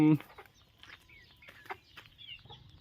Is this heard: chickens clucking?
yes